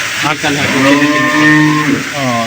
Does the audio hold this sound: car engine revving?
no